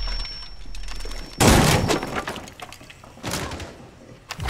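A frag grenade goes off in the video game Rainbow Six Siege, a sudden loud burst with a thumping low boom, followed by scattered debris and gunfire-like cracks that fade, then smaller impacts.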